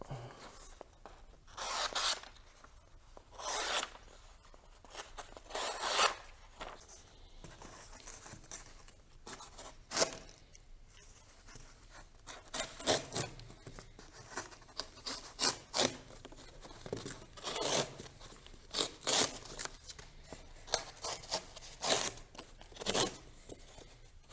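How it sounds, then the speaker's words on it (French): Paper being sliced with a Cold Steel AD-15 clone folding knife, heard as a series of close, crisp rasping and tearing swipes in irregular bursts, with no voices. "Test de coupe sur papier."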